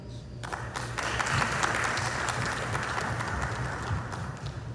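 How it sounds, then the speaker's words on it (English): Audience applause at a live ceremony broadcast on a Garifuna radio station, a sustained crowd of clapping hands that swells early and stays full and even, with a low hum underneath. "Let's give another round of applause for Ms. Purposeware."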